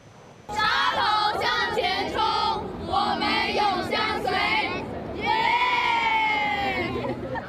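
Fans cheer loudly in the Hong Kong Coliseum during a table tennis mixed doubles final, a dense roar of voices that surges in waves and stays close and sustained.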